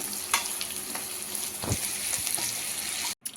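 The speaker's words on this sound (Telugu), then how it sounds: "ఇలా మనం బాగా ఫ్రై చేసేసుకోవాలండి" Gongura (sorrel) leaves frying in a pan, a steady close sizzle with a few stirring scrapes and soft clinks throughout, ending in a brief cutoff.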